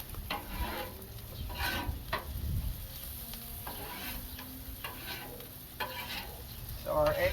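Onions and peppers sizzle on a backyard grill flat-top while being stirred and scraped, a close, steady crackling fry punctuated by repeated utensil scrapes.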